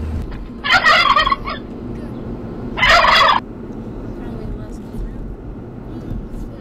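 Two loud bursts of turkey gobbling, separated by a couple of seconds, over a constant low rumble of wind or traffic.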